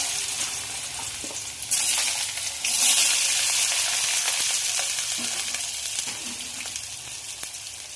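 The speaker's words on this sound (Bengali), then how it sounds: "এবার পোস্ত বানানোর জন্য আলুটা ভেজে নেব" Potatoes fry in hot oil for Bengali aloo posto, sending up a loud, close sizzle that surges sharply as they go in, then stays steady and crackling with occasional utensil taps.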